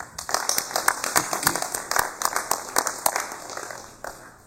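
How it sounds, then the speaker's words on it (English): Audience applause in a formal session hall, a steady run of sharp, dense claps at moderate distance, tapering off slightly toward the end with no voices over it. "let me just ask that we give them a collective recognition by giving them a big round of applause"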